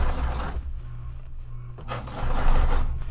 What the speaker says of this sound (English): now I am top stitching this